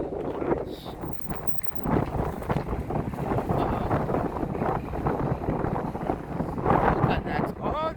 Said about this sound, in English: The wind is too much.